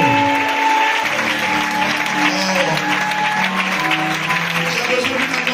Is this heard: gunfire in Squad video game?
no